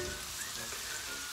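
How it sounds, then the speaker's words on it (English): Steady, dense sizzling hiss of potatoes frying in hot oil, continuous and fairly quiet throughout with no voices. "It's going to sizzle."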